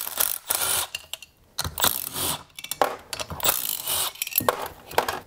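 A 1/2-inch socket wrench ratchets to remove the friction disc on an Ariens snowblower. Close, loud clicking bursts repeat in quick strokes, separated by brief pauses and small metallic scrapes.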